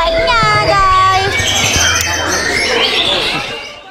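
A bird gives loud, rising and falling calls and squawks up close, with people talking and chattering around it.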